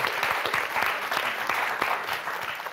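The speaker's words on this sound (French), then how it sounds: "En tout cas, on vous applaudit tous les quatre." Studio audience applauding on the French TV word game show Motus, a steady dense wash of clapping held throughout with no voices over it.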